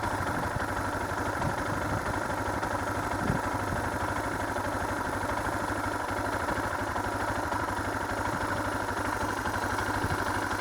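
Motorcycle riding down a road near St. Helena Canyon in Big Bend, engine droning steadily and continuously with heavy wind rush and no talk.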